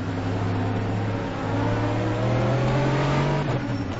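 A BMW race car closing in from behind in a racing video game, a steady loud engine drone with a rising pitch, continuous and fairly close, with no voices over it.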